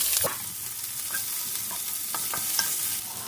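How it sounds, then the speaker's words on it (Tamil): Chopped large onion frying in a pan for coconut rice, a soft continuous sizzle with a few stirring scrapes and clicks, close but fairly quiet. "ஒரு வெங்காயம் பெரிய வெங்காயம் சின்னதாக கட் பண்ணி வச்சுருக்கேன் இந்த மாதிரி அதையும் போட்டுக்கலாம்"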